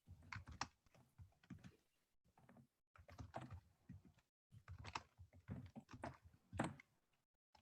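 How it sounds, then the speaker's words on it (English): Computer keyboards clatter with busy typing and clicking in bursts, pausing briefly between clusters of keystrokes, close and fairly clear with no talking. "I hear a lot of typing, a lot of clicking."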